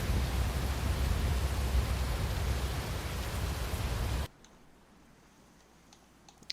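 Rain storm in the Roblox Twisted video game, a dense steady hiss of rainfall that cuts off abruptly partway through, leaving near silence with faint ticks.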